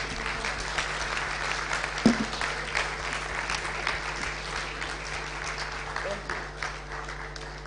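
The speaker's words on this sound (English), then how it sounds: "I think you deserve a standing ovation for the round of applause." Steady audience applause fills a business executive breakfast meeting room, a dense sustained patter of many hands at moderate distance with a faint voice speaking over it and one sharper knock partway through.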